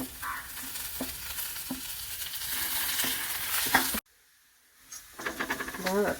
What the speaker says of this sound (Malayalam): ഇതിലേക്ക് പച്ചമുളകും കറിവേപ്പിലയും കൂടി ഇടുന്നുണ്ട്.